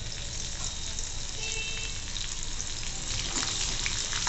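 Large green chilli pieces sauté in a pan for a dry flat beans sabji, making a continuous, even sizzle with faint stirring scrapes, close and moderately loud.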